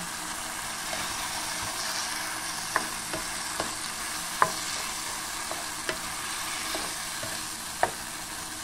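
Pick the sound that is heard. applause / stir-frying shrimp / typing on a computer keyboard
stir-frying shrimp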